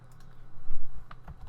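A short burst of typing on a computer keyboard while working in Unreal Engine, a few quick, close key clicks over a soft steady background hum, with no voice.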